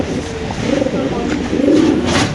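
A pair of black fancy pigeons coo close by in soft, rolling low calls, two or three phrases in a row over faint background noise.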